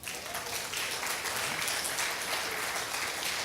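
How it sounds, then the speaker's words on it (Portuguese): A church congregation applauds during a sermon, a continuous, even roar of many hands clapping, heard from some distance and fairly faint, with no clear speech on top. "Pode aplaudir Jesus?"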